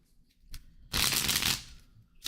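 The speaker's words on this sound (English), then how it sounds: "Let's shuffle real good, Diana." Tarot cards being shuffled by hand, a brief tap followed by a loud, dense riffling burst of about half a second, then quiet with small handling sounds at the end.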